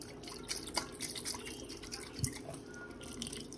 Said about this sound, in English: I rinse until I don't see any more salt residue